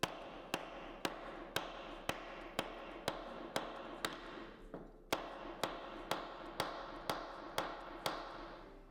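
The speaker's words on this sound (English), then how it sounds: "we hammer next to the leg of the table" Steady, evenly spaced hammer blows strike a wooden table next to its leg, about two per second, sharp and close, with a short pause midway, while fixing a fallen violin soundpost.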